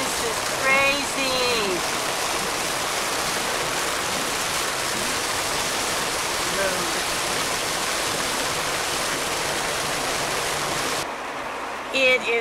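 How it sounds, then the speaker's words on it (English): Dense, roaring rain pours down steadily, like a downpour drumming on a car, with a faint whine at the start and a brief drop-off near the end. "It is seriously raining outside."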